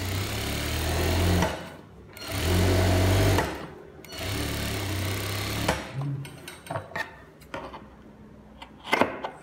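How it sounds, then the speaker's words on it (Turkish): A sewing machine topstitches palazzo trousers in three long, loud runs of rapid mechanical stitching separated by short pauses, followed by quieter handling clicks and taps. "iki milimden üst dikişimi çekiyorum arkadaşlar. Aynı şekilde üst tarafını dikiyorum."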